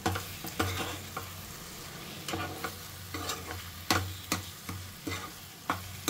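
Spring onion egg fry being stirred in a pan, with a steady low sizzle under a series of sharp spatula scrapes and taps that come at irregular intervals, close and moderately loud, with no talking.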